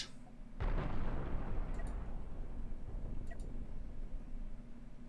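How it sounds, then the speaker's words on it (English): A big cannon fires shrapnel in the space-ship game Cosmoteer, one sharp heavy blast followed by a long rumbling roar that fades slowly, with faint high clinks scattered through the tail. "And that really is the big gun."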